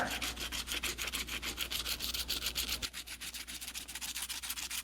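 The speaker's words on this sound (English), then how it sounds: "Got some 600 grit sandpaper." Fine 600-grit sandpaper rubs back and forth on a Stanley No. 98 mortising gauge in quick, steady strokes, close and fairly quiet, with the scratchy rhythm softening partway through.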